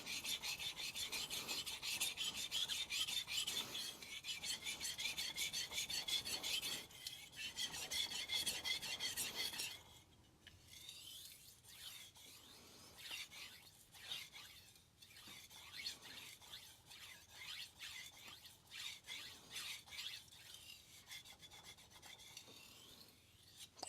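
Shirogami 2 santoku knife sharpened on a sintered ruby 3k whetstone: continuous close wet rasping strokes, dense at first, then a lighter, more spaced scraping rhythm after a short break, with no talking.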